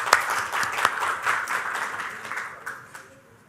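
An audience at a tech talk gives a quick round of applause to the event sponsors, moderate clapping from a modest crowd that fades out toward the end.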